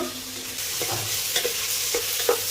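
Rice tossed in a pan with salt, turmeric, spice powder and chilli powder for vegetarian fried rice, soft frying hiss with several scraping stirs and a sharper clatter near the end, no talking.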